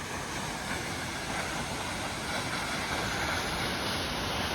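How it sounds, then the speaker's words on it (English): Perrine Coulee Falls, a tall waterfall in Idaho with a walkway behind it, pours in a loud, constant broadband roar of rushing, crashing water that holds steady without any voices. "Another cool waterfall here in Idaho."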